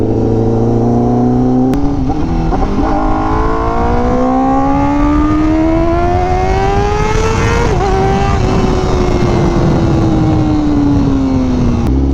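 A Honda Fireblade RRR SP motorcycle on its stock exhaust revs hard and loud. The engine note climbs smoothly for several seconds, holds near the top, then eases back down, with a brief shift-like blip midway. No one speaks.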